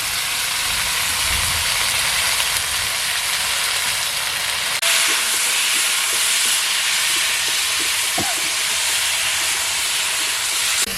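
Chicken pieces fry loudly in hot oil with a constant dense sizzle and hiss, and the sputter freshens midway as ginger, garlic and green chillies go into the pan, close by with no talking.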